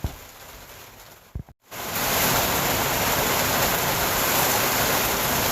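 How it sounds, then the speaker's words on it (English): Heavy rain pours steadily on a truck bed where someone is camping at home, a loud, dense, unbroken hiss that swells up after a brief quiet moment and a couple of small knocks near the start. "it's still raining really hard out there."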